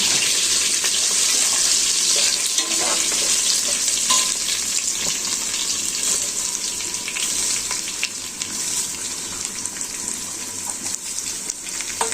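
Rice frying in oil with bay leaves and shahi cumin for mutton biryani, a loud, dense, continuous sizzle close by, with scattered scraping stirs throughout and no voices.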